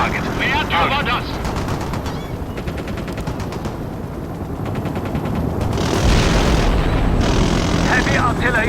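Heavy artillery and rapid gunfire in a World in Conflict battle, a sustained crackling barrage with bursts of automatic fire and deep rumbling booms that grow louder near the end, with voices in the mix.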